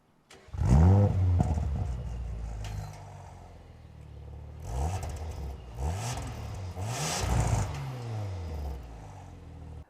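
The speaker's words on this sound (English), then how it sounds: "the owner of this particular car has installed an aftermarket Remus exhaust system. Have a listen." An Audi RS5 with an aftermarket Remus exhaust revs sharply, then several more throaty revs rise and fall, with a loud, rumbling exhaust note and crackles between blips.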